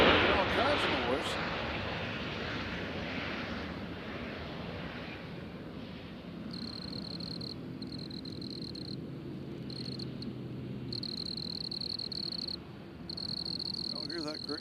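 A cricket chirps in repeated high, buzzing pulses at a windy airport, steady and fairly clear above a broad rush of wind and distant aircraft rumble, with a person talking at the start.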